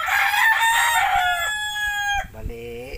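A rooster crows once, close and loud, in a drawn-out, strained call that breaks off near the end, followed by a short clucking tail.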